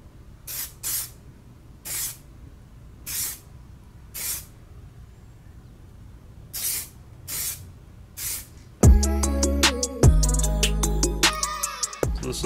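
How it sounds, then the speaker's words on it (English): Bursts of spray paint along a car's paint line edge, blended with a cardboard shield for seamless overspray: several short close hissing sprays, then a louder sustained rough spray with clattering undertones toward the end. "I'm just cleaning up the paint line edge here because it's not, it needs to be blended a little bit better. So I'm just using a little cardboard to get a seamless overspray."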